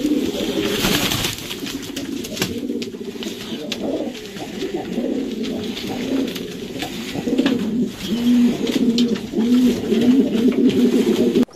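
Bukhara trumpeter pigeons coo in a loft, a steady chorus of low rolling coos with faint flutters, close and continuous throughout.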